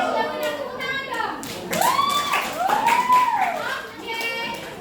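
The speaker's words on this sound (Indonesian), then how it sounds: "tepuk tangan dong" Children in a classroom clap in a brief burst while voices chatter and shout over and around the applause.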